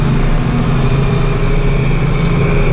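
A John Deere 4450 tractor engine while driving, a loud, steady, low diesel drone with a constant rumble and no breaks or speech.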